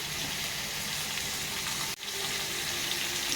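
A pan of capsicum curry cooks on the stove with a steady, fairly quiet sizzle, broken by one brief dip and a soft knock near the middle before the frying hiss resumes.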